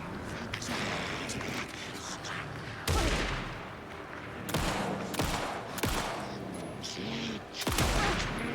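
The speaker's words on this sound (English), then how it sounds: "Hey, I was shooting you." Repeated gunshots in Alan Wake 2 during a fight with deputies, loud sharp reports spaced a second or two apart over a constant rumbling backdrop, with a voice speaking in between.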